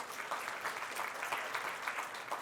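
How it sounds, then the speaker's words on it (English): Audience applause during a closing conference plenary, faint and distant steady clapping from a large crowd continuing throughout. "Give him a round of applause."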